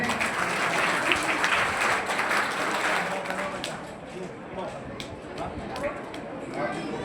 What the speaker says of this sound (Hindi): एक बार जोरदार ताली बजा के स्वागत करें।